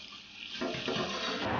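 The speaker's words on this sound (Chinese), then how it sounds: "放置在水龙头下面，继续用清水冲去残留的浮沫。" Beef brisket rinsed under a running kitchen tap to wash off leftover scum; a steady broadband water rush that grows louder and fuller after the first half-second, close and continuous with no talking.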